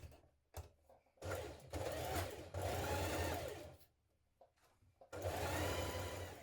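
Sewing machine stitching two front trouser legs together along the curved front edge, running in several loud close bursts with short pauses between them, no talk.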